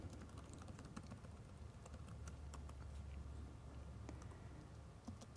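Soft, rapid keystrokes from typing Python code on a computer keyboard in the Visual Studio editor, a quiet, steady patter of clicks over a low background hum.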